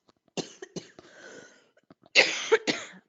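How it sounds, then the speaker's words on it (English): A few dry coughs, close and fairly loud, followed after a short pause by a harsher burst of two or three coughs. "I'm going to be coughing for a few minutes."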